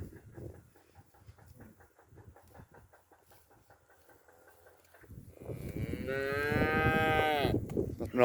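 A bull bellows at strange cattle across a river, first with soft low grunts and snorts, then a long loud rising moo that swells and holds, fairly close in an open outdoor setting.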